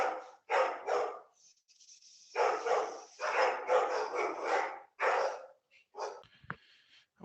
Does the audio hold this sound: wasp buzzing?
no